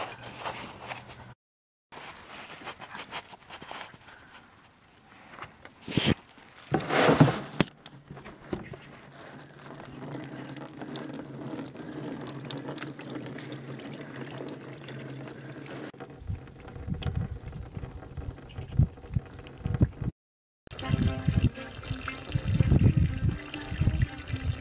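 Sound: large bucket of water pouring into a Ford Taurus radiator tank

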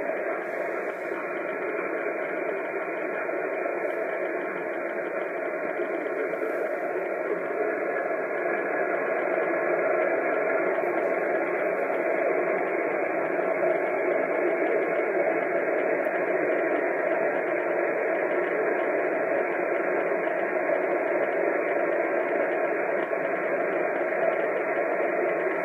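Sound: shortwave radio broadcast with atmospheric static

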